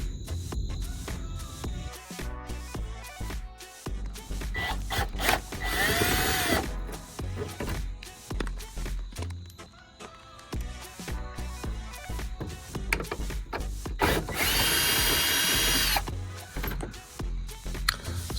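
A power drill whirs in repeated short bursts while backing out the screws in front of the tire on a 2022 Toyota Tacoma to remove the lower air diffuser. The drilling is close and loud, with no talk.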